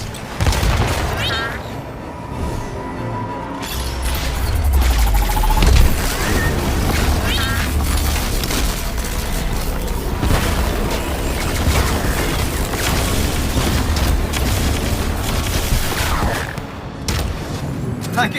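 Iron Man suit weapons fire in the Iron Man VR game on Meta Quest 3, a loud steady barrage of blasts and booms with mechanical whirring, while voices talk intermittently over it.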